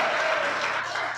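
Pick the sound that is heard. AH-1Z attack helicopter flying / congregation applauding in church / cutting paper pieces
congregation applauding in church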